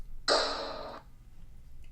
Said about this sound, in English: This is actually a hand clap that I recorded right here